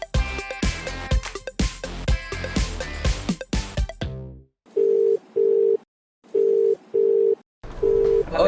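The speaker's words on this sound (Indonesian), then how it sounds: "Gue mau telepon Yana, gue kepo dia lagi di mana sekarang" Outgoing phone call ringback tone, four steady, evenly spaced double beeps with short silences between, loud and close, following a stretch of background music and without any talk.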